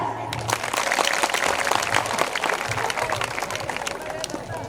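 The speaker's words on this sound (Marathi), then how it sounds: "जोरदार टाळ्या" Applause from an audience at a Marathi school event celebrating Shivaji's forts, with dense, sustained clapping and crowd noise continuing throughout at a steady, loud level.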